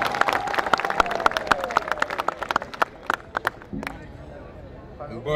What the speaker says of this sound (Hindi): एक बार समूचा उद्घोष हो जाए तालियों का